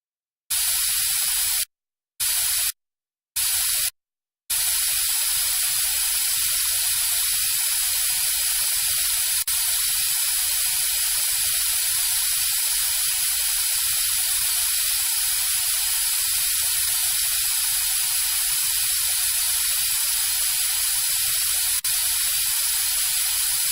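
Steady hissing water spray with suction in a dentist video game, rinsing teeth, running alone and continuous after a few short opening bursts.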